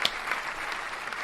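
Brief burst of dense audience clapping at a comedy show, moderately loud and continuous, with a few sharper claps standing out near the start.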